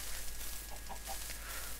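A Minecraft chicken gives a few short, soft clucks over a steady, hissy game background, with no voices present.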